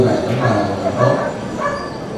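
A dog barks and yips during a dog obedience trial, several sharp barks and whimpers close by, mixed with background talk from people nearby.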